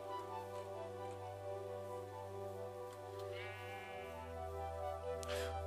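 A sheep in Minecraft bleats in a sustained, nasal, wavering cry that shifts pitch partway through, heard fairly clearly with nothing else over it.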